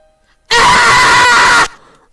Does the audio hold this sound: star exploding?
no